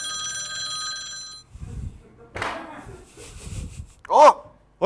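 An old-style telephone bell rings loudly and steadily for about a second and a half, then stops, followed by talking and a sharp higher ring near the end.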